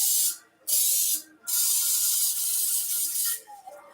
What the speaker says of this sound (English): I like to spray my pan with cake oil spray